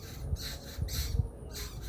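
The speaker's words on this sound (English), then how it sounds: "I don't know if you hear the birds right here singing" Birds in trees at sunset in the Gambia give a few rough squawking calls over broadband background noise, fairly faint and spaced out.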